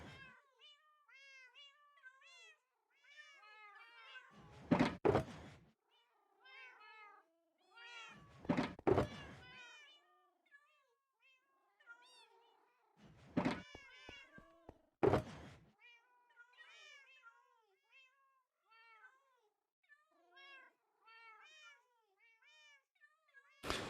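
Newborn cats in a video game mew in quick, high, repeated chirps throughout, broken by loud hollow thumps that land in clusters every few seconds.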